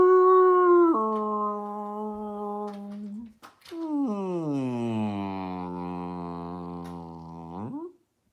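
A person imitates a whale call with their voice, making long, wavering, tonal moans: one held note that drops in pitch, a short break, then a longer sliding call that ends abruptly.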